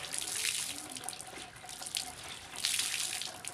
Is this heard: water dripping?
yes